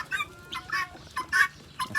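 Chickens on a farm where a broody hen sits on eggs, clucking in short repeated bursts about every half second, fairly close and clear with no talk over them.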